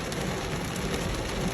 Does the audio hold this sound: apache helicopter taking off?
no